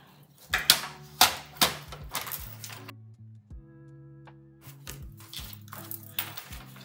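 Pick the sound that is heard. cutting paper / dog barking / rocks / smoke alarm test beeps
cutting paper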